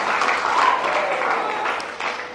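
Worshippers in a church clap together during a sermon, a brief, fairly loud wash of applause that holds steady throughout, with little else over it.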